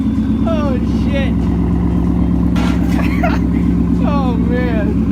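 A 2018 Mustang GT fitted with an MBRP Race catback exhaust holds a loud, steady, deep engine drone, close and continuous throughout, with voices heard over it.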